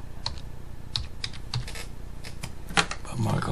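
Typing into a search box on a Windows computer keyboard: a short run of close, crisp key clicks, irregular in rhythm, with a brief louder clatter near the end.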